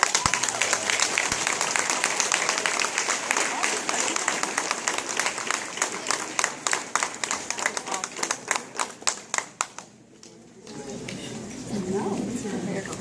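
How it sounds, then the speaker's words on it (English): Audience applause at a fourth-grade graduation ceremony, sustained dense clapping that turns into rhythmic unison claps before stopping, followed by crowd murmur and a voice speaking. "Let's have another round of applause"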